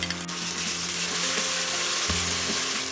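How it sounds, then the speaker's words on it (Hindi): Ginger garlic paste with green chili and onion sizzles and crackles steadily in hot oil, with occasional stirring scrapes close up and no talking. "जब तक अदरक लहसुन का रॉ फ्लेवर ना चला जाए तब तक हमें फ्राई करना है।"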